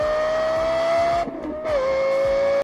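A Lexus LFA engine revving at high rpm, a loud, piercing, sustained wail that dips briefly as the throttle lifts, then rises again to a steady high tone.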